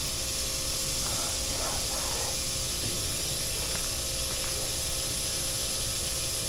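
Garden sprinklers in a herb garden throwing water high into the air, a constant loud hiss of spray with faint pattering over it.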